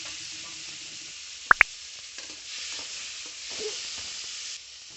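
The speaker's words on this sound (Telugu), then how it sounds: "నెక్స్ట్ టమాటాలు వేసుకొని బాగా ఫ్రై చేసుకుందాం" Tomatoes fry in a pan with a steady, close hiss of sizzling oil. Two sharp clicks cut in early, and the sizzle swells slightly before dropping away near the end.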